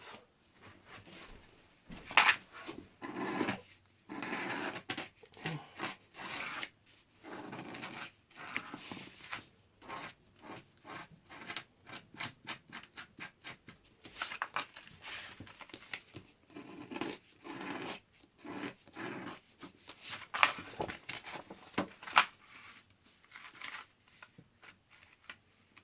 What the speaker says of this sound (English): You want to just scrape all the old glue off.